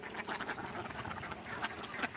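Crested ducks quack repeatedly in a rough, scattered chorus at moderate distance in a rice field, calls overlapping over a noisy background.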